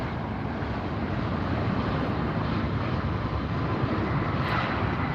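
A WestJet airliner takes off from runway 24L at LAX, a broad, steady jet roar heard from a distance, continuous and even throughout with some wind noise and no talking.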